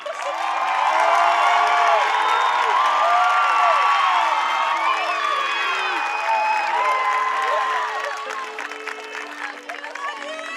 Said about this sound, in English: Let's give row 1 a round of applause